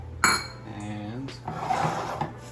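A cup of dry, unrinsed rice is stirred and scraped around a hot oiled pan, with clinks and scrapes from the utensil against the cookware and a voice talking over it.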